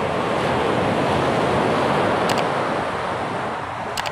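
Sea waves roll and break on a Mumbai beach in a steady, loud wash of surf with some wind noise across the microphone, continuous throughout with no talking.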